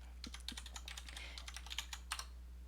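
Typing on a Happy Hacking keyboard, heard as a quiet, close stream of quick, irregular key clicks with a few sharper taps, alone without talk.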